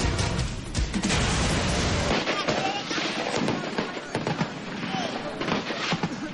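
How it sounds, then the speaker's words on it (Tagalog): Dense crackling bursts and sharp booms in a noisy outdoor scene during military fighting with rebels in Maguindanao, heavy repeated cannon blasts, no voices. "Umalingaw-ngaw mga putok ng kanyon sa patuloy na sagupaan ng militar"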